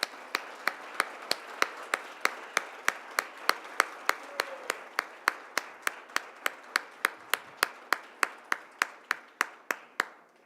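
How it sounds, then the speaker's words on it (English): Scholars being honored at a Hispanic Heritage Month celebration receive a round of applause, heard as a steady, evenly spaced series of about thirty crisp claps, fairly quiet, with no talking. "Let's give them a round of applause."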